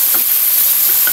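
Sweet potato and potato fry in hot oil, giving a loud, continuous crackling sizzle with a few faint brief bubbling pops over the short stretch.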